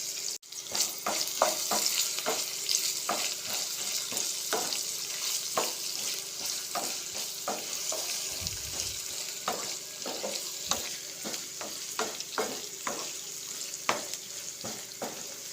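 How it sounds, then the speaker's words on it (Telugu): Soaked raw chana dal frying in oil, a constant close sizzle broken by many regular scraping strokes and clicks of a spatula stirring the pan. "ఇది ఆయిల్లో బాగా ఫ్రై అవ్వాలి, అప్పుడు బాగా ఉడుకుతుంది అనమాట."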